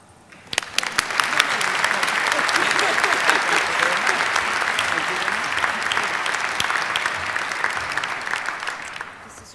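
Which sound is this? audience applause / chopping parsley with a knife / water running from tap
audience applause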